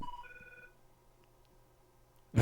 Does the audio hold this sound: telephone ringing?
yes